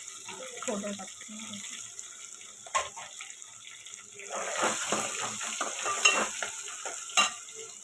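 Onion and tempering hit hot oil in a pan with curry leaves, garlic and chillies, giving a crackling sizzle that swells midway, with stirring clatter and a quiet voice early on.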